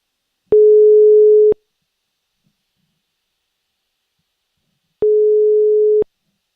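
A telephone line returns a busy signal: two steady one-second tones separated by about three and a half seconds of silence, clear and loud with nothing else heard.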